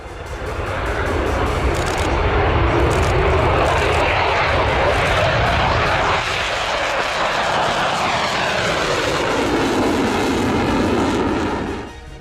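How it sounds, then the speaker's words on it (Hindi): A loud, sustained jet roar of Russian fighter jets sweeps past overhead during the Russia-Ukraine war, swelling and shifting in pitch as the aircraft passes, with no talking. "गरजते रहे रूस के फाइटर जेट्स।"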